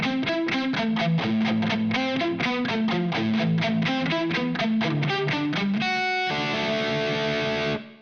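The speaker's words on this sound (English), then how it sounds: "What I'm going to do is just play a riff without the phaser" An electric guitar plays a heavily distorted brown-sound riff with no phaser, as a fast run of loud picked notes ending on a sustained ringing chord.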